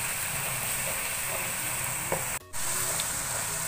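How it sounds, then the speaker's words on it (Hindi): Fenugreek leaves and potatoes frying in a pan, with a steady close sizzle that runs throughout and drops out for a brief moment near the end before resuming. "मेथी को अच्छे से भून लेंगे।"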